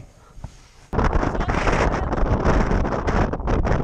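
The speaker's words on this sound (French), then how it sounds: "On va affronter le vent." After a quiet second, strong wind in Iceland suddenly buffets the microphone, a loud sustained roar that stays rough and gusty to the end.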